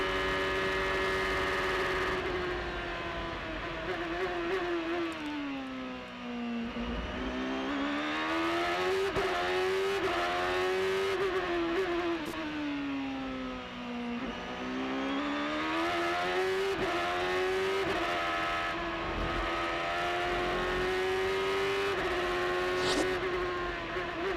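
A Champ Car race car on an onboard lap of Road America at full throttle, its loud, sustained engine note rising and falling steadily through gear changes and corners for the whole stretch, with no voices.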